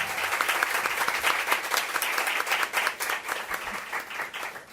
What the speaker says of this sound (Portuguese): Eu já queria antecipar palmas para elas.